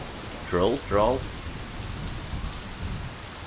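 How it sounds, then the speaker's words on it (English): Steady hiss of rainfall in the video game My Summer Car throughout, with two short voiced sounds near the start and low rumbling underneath. "We're going to have the rain noise"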